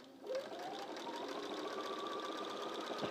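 Sewing machine stitching pieced quilt blocks together at normal speed, a steady continuous mechanical whir with a rising tone as it runs up, close and alone without talk.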